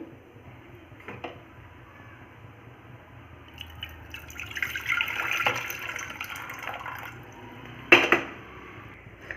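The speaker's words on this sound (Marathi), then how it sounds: "तुम्ही बघू शकता मी किती पाणी वतलं आहे" Water splashes into a pressure cooker holding mixed pulses for misal, a soft, close pouring swell in the middle followed by a brief louder splash near the end.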